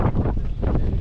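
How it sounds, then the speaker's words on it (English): Strong wind buffets the microphone at the Blue Lagoon in Iceland, a continuous loud low roar with gusty swells and no break. "It's really windy, holy moly."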